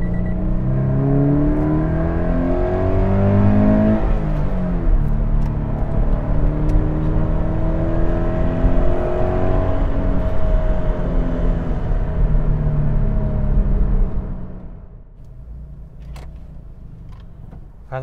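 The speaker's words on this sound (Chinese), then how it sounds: "我感觉它 engine 声音有一点点粗" A 2016 Toyota 86 with a horizontally opposed boxer engine and manual gearbox being driven, its slightly rough engine note rising and shifting through revs for most of the stretch before dropping abruptly to a quiet idle near the end.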